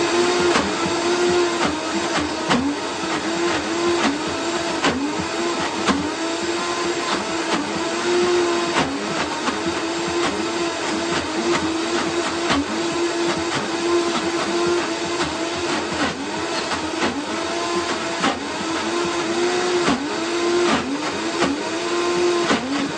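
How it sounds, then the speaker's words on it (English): Blender whirring steadily as it blends almond cheese ingredients with salt, a constant close motor drone with a slight churning wobble and no voices. "Let's blend before I have 1 more ingredient,"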